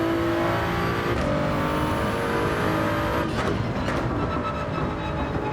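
A race car engine in Gran Turismo 7 drones loud and steady at high revs with no letup, traffic sound blending in as another car is overtaken on track.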